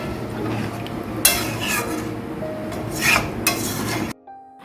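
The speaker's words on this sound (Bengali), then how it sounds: "এবার আমরা এতে দিয়ে দেবো জল। ভালোভাবে একবার নেড়ে দেব।" A spoon stirs mutton and water in a metal pot, giving scraping and clinking strokes with sloshing, moderately close, before an abrupt cut to near silence at the end.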